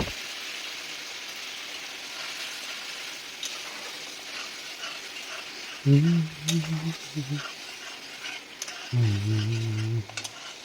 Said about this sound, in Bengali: দিয়ে এবার এটাকে ভালো করে কষিয়ে নেব।